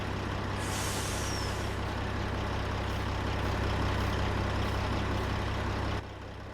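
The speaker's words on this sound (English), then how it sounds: "Now the truck seems really loud." Loud truck engine in a driving game on a canyon crossing route, a steady low drone with air-brake hisses, carrying on throughout and easing off at the end.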